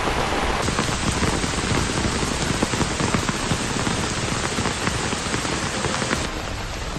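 Heavy monsoon downpour in Roha taluka, Raigad district, Maharashtra, a loud, dense and steady roar of rain pattering on surfaces that continues without a break and eases only slightly near the end.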